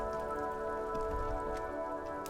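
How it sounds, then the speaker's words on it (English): Rain falls on the white and blue police livery of a motor carriage in Disco Elysium, a steady soft patter over a sustained tonal ambient drone, even and continuous with no voices. "Droplets of rain fall on the white and blue police livery of the motor carriage."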